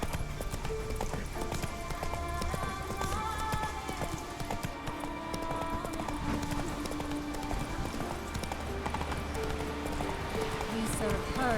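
Roach, the horse in The Witcher 3, gallops with a steady, loud clip-clop of hooves throughout, accompanied by game music and ambient effects, while voices speak over the hoofbeats.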